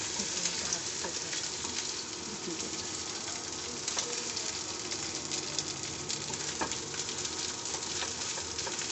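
Ingredients for buldak ramen fry with a faint, steady sizzle and occasional stirring clicks, while birds coo softly in the background.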